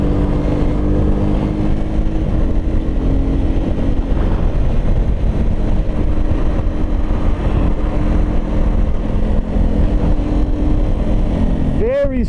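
A 2022 Ducati Supersport 950 motorcycle riding in third gear under engine braking, a continuous loud engine drone mixed with heavy wind rush, recorded from the rider's position.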